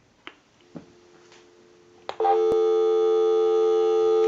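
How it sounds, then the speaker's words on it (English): A few faint clicks, then a loud, steady busy tone from a Western Electric wood wall telephone sounds continuously and alone until the end. "we'll call my number and it'll be busy"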